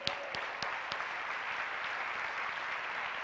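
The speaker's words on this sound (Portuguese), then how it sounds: "Aplauda ao Senhor pela graça." Church congregation applauding at a Sunday-evening family service, a dense, steady wash of clapping from many hands filling the room, with a few sharper claps standing out early on.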